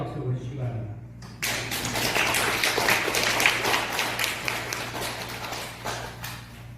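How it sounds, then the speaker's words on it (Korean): A crowd claps in sustained applause that starts abruptly and continues steadily, filling a large room, with a low hum underneath. "감사와 축하의 박수를 보내주시기 바랍니다"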